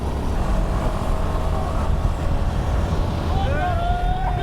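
A motorcycle rides along a smooth road near Gazipur, its low engine rumble blended with heavy wind buffeting against the microphone and a faint whistling tone near the end.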